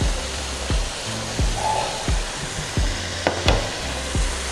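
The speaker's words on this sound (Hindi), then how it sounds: "और अब हम इसमें डाल देंगे लहसुन, अदरक और हरी मिर्च चॉप की हुई।" Chopped garlic, ginger and green chili hit hot oil in a pan for chicken keema, giving a steady loud sizzle with a few sharp clanks of a spoon stirring at regular intervals, no talking.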